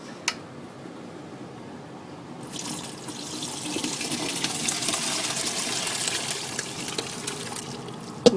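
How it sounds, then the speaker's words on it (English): Tap water runs over relish vegetables draining in a colander, a steady close rush that swells after a quieter start, with no talking. "you drain it in a colander and you rinse it thoroughly."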